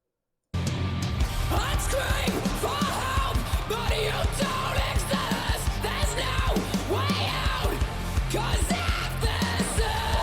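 A female vocalist lets out a distorted true-pitch scream in MAPHRA's metal song "Kill or Be Killed", loud and sustained over driving guitars and pounding drums, continuing for about ten seconds.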